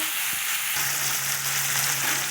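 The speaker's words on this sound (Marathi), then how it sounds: "छान असं परतून घेऊ टाकून भिजवलेली हरभऱ्याची डाळ" Soaked chana dal with mustard seeds, cumin and garlic sizzles loudly in hot oil, a steady close crackle throughout with a brief stir, no talking.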